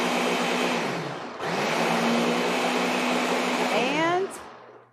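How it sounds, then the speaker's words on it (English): Kitchen blender whirring as it purees strawberries into a smoothie, a loud steady motor drone in two bursts with a brief pause, the pitch rising as it spins down at the end. "And any blender will work."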